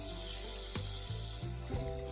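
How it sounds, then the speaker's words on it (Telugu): Rice being washed by hand in water for bagara rice, a steady wet sloshing and trickling close up, with a few soft breaks in the swishing. "ముందుగా బియ్యం కడిగి పెట్టుకుందాం."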